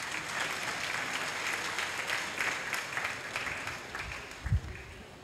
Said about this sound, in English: I thought you would clap for me for this.